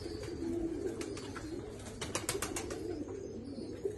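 Pigeons coo repeatedly in low, throaty murmurs, with a few brief higher flutters and chirps scattered over a steady background.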